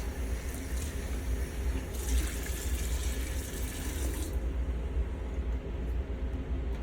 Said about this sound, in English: turn on the faucet, rinse our bowl out